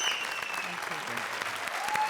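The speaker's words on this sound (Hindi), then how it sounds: "तो श्वेता, मुबीन और कपिल के लिए जोरदार तालियां." Studio audience applause on a televised comedy show, a steady wash of many hands clapping at moderate distance, continuous and fairly even, with faint tonal music sounding underneath.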